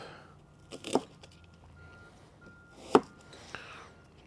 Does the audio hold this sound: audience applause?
no